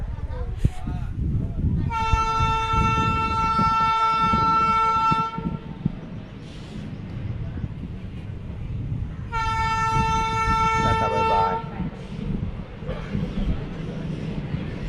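A passenger train crosses at a station on the Savarkundla–Bhavnagar line. Two long, loud horn blasts sound, each several seconds, over a constant rolling rumble and general station noise.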